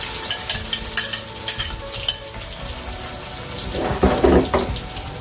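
Onion puree tipped into hot oil for a N'Godomlé sauce, with a few clattering knocks and stirring before a louder, brief burst of sizzling frying up close.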